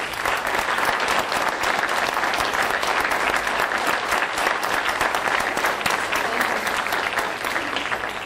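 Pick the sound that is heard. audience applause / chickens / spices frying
audience applause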